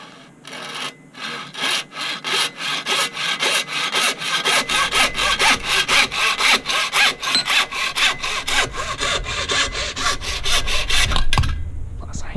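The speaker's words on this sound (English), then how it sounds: "Handsaw goes through it just fine" Handsaw cutting by hand through a lightsaber blade part, a loud, steady run of rhythmic back-and-forth rasping strokes close by, continuing for many strokes without talk.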